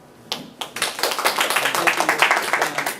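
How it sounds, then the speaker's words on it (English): A small audience applauds a guest speaker at a language-teaching talk, starting with a couple of isolated claps and then building into brisk, close, moderately loud clapping from a modest group. "let's give a big round of applause for Cadmus Kerala"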